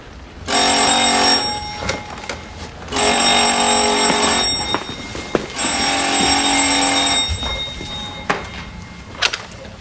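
An old-style bell telephone rings in a hotel room, sounding three long, loud rings separated by pauses, with a few faint knocks and rustles between and after them.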